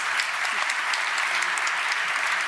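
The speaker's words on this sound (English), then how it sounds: "This is your round of applause." An audience at a sustainability conference applauds, with dense, steady clapping filling the hall for the full stretch and no voices over it.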